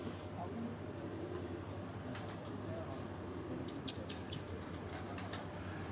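Pigeons on a Rawalpindi rooftop in the evening give soft, faint coos against steady background hum, while someone talks over them.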